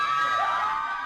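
Wedding guests cheer and shout together in a sustained, loud crowd roar with whoops and high voices, steady for about a second.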